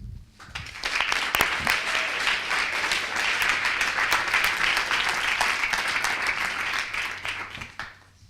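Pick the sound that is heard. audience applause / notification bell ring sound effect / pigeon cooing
audience applause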